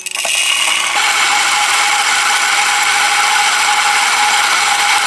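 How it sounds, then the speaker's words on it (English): A Timemore Sculptor 064s electric grinder grinds 18 grams of coffee, a loud, close, steady whirring buzz that starts with a brief clatter and then holds evenly throughout. "So let's grind 18 grams of coffee now."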